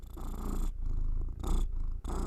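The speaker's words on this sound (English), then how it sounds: "I had to stop for a moment because my cat wanted attention" A house cat purrs close to the microphone in a steady rhythmic rumble, each breath cycle rising and pausing briefly before resuming.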